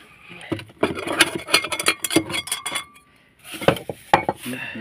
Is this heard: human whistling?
no